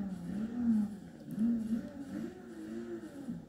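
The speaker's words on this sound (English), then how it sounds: "And here let me start the engine." A car engine starting and revving in the racing game Forza Motorsport 6, a faint, low idle hum with a few gentle rises in pitch, quiet and steady throughout.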